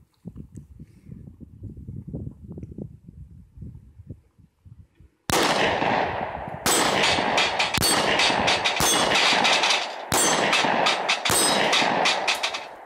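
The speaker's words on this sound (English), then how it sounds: "Let's see if it makes any difference in my shooting." A dual-action handgun fired at an outdoor range: about six loud, close shots with ringing tails, evenly spaced and starting midway after a stretch of low rumbling background.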